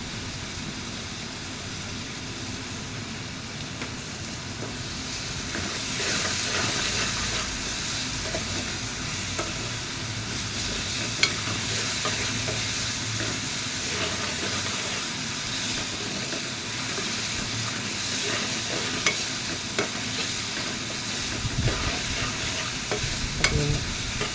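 Onions fry in a pan for a drumstick and egg curry, giving a steady sizzle and hiss with occasional scraping stirs. The sound stays fairly even throughout and no one speaks.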